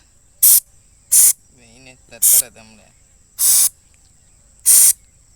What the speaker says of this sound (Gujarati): જો સ્પ્રે સાંટવી છે